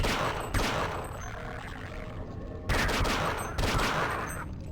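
Rapid gunfire from a weapon in the video game Half-Life: Signal Lost, fired as fast as the trigger is clicked: several bursts of dense, sustained shots with sharp onsets, loud and close, without any talk over them.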